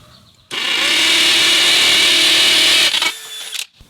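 A DeWalt DCD999 cordless hammer drill runs on its hammer setting, boring into material with a loud, steady, high-pitched buzzing roar for about two and a half seconds before winding down and stopping.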